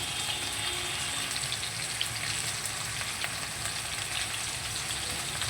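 Gati kochu (taro) pieces frying with salt and a little turmeric in a pan, giving a steady, close, dense sizzle that holds evenly throughout with faint crackles and no talk.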